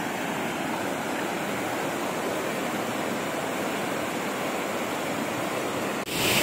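A waterfall on a river in the Konkan, near Mandangad fort, gives a steady, full roar of rushing water that stays continuous and close, with a brief bump near the end.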